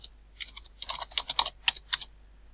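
Rapid, close bursts of keystrokes on a computer keyboard as an email is typed, uneven clusters of crisp clicks with brief pauses between them.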